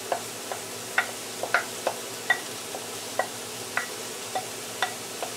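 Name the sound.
celery and onions sizzling as they are added to the pan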